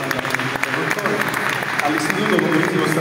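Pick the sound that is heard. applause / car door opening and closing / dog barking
applause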